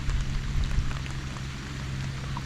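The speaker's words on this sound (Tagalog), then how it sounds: "Kalakas na ng ulan." Heavy rain pours outdoors during a fishing trip, a dense continuous roar of drops with low rumbling underneath, loud and close throughout.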